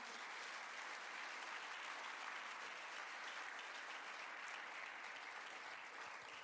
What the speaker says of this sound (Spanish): Le da un aplauso a la palabra del Señor.